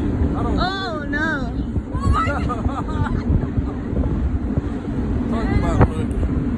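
Ocean wind gusts across a mini golf course at night, a steady rushing roar buffeting the microphone throughout, with people talking and exclaiming excitedly over it.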